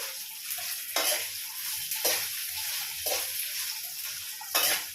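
Dried red chillies sizzle in hot oil after mustard seeds for a gongura chutney, a steady frying hiss broken by regular stirring scrapes about once a second, close and alone.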